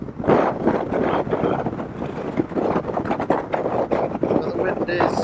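Strong Patagonian wind roars and buffets the microphone in heavy, uneven gusts, with a voice briefly audible through the rush.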